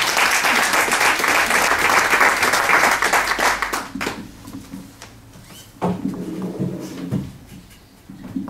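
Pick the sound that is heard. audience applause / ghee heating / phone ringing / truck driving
audience applause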